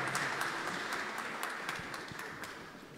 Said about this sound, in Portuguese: Peço uma salva de palmas.